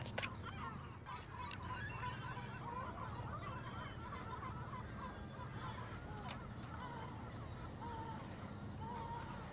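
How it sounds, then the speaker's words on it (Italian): Gulls call repeatedly and from a distance over a quiet bay in the early morning, a scattered series of faint honking cries over a steady low ambient rumble, with no one speaking. "Si sentono solamente i gabbiani che cinguettano"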